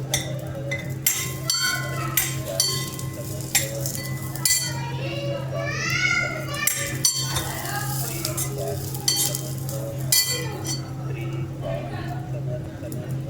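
Green chillies and garlic roast in a pan with a steady sizzle, punctuated by sharp metallic clinks and scrapes of stirring. Children's voices and other talk run underneath, and a constant low hum sits beneath everything.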